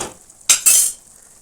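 Ingredients for a Tamil moong dal kootu stirred in a pan, with a spoon scraping and clinking through two short bursts of sizzle and scrape near the middle, close up, with no talking.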